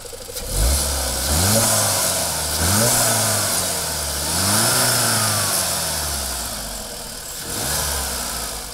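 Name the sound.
car engine revving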